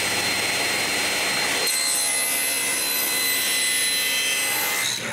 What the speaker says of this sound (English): I remove the waste with a series of cuts.